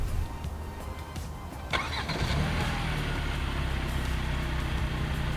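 A Hyundai Santa Fe Calligraphy (2022–2023) starts remotely from its key fob with a brief burst of cranking, then settles into a steady, low, close engine idle that holds to the end.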